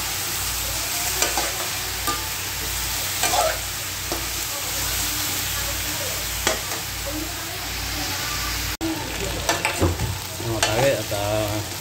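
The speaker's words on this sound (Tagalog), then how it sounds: "Sasangkot ka muna natin mga katagay para mawala ang lansa." Adobo meat with feet and bony pieces being sautéed in a pan, a loud close sizzle with repeated stirring scrapes and clanks, one sharp knock partway through.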